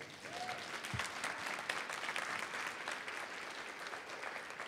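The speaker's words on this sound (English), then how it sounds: "Can we give them a round of applause," An audience at a university event applauds as a dense, even wash of clapping that sounds somewhat distant and soft and holds steady throughout.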